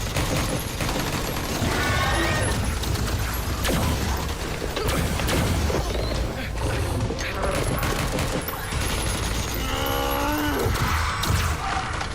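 Battlefield gunfire erupting right after a shouted French order to fire, a dense loud fusillade of shots with mechanical clatter over a constant roar, sustained for the whole stretch with brief shouting voices.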